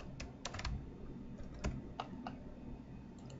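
Someone types a username on a computer keyboard, a quiet run of scattered key clicks with brief pauses between them and no talking.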